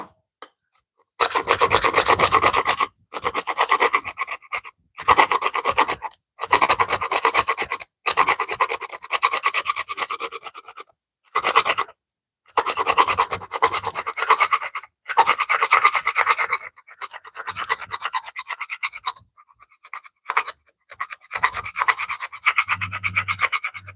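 A sharp wood chisel scrapes across a scrap board in repeated short rasping strokes, close and loud, with brief pauses between bursts while working on a sheath build.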